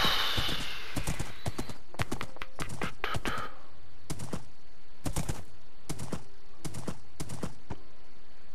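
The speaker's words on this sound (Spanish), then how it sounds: "Se quedó bugueado el caballo ahí." Hooves of a glitched horse in the Minecraft video game clop in a regular, evenly spaced series of crisp, close knocks, with a brief noisy burst and a faint neigh near the start.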